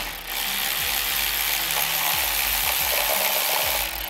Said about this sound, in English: Now the tool I'm using here is my Milwaukee 3/8 ratchet.